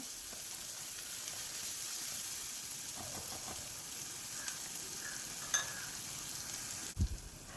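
Coriander powder and other spice powders being stirred as they fry in hot oil for a green pea and rajma masala curry: a steady, soft sizzle with occasional light scrapes and a couple of brief knocks near the end.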